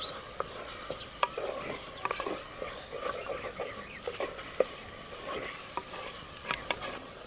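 Green eggplant bharta, with coriander just added, is stirred in a pan with a soft sizzle and scraping strokes, close and faint, irregular clicks of the spoon throughout.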